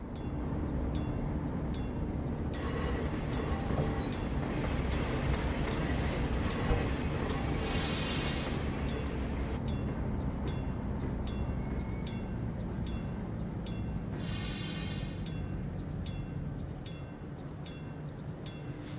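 A train in Train Simulator on the Sacramento Northern line gives a steady, loud rolling rumble on the rails, with rhythmic wheel clicks and two bright bursts of wheel squeal partway through.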